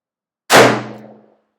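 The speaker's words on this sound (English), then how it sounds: "let's give it some single action shots now" A handgun fires a single-action shot: one sharp, loud report with a short ringing decay, standing alone against silence.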